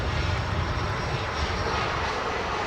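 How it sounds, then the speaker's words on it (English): A SkyWest airliner arrives on runway 24 right at LAX, its engines a loud, steady broadband roar that holds evenly throughout. "Let's go to a little Sky West, arriving right here on runway 24 right"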